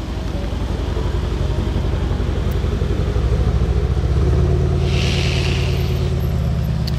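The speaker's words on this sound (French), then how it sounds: "Oui, c'est bien l'échappement Brabus." A Mercedes C63 fitted with a Brabus exhaust idles with a deep, steady, pulsing rumble close by, swelling slightly louder partway through.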